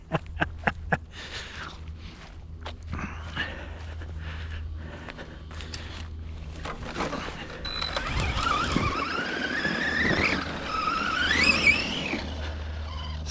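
An ARRMA 4S HNR radio-controlled car drives over wet ground, its quiet electric motor giving a thin rising and falling whine over clicks and scuffs, growing louder and more insistent toward the end.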